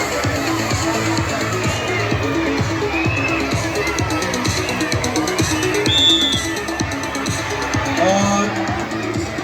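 A lively crowd of spectators at a school sports-week fun games day, with cone collecting and balloon bursting, claps and cheers in a continuous dense roar, with overlapping voices and bursts of applause throughout.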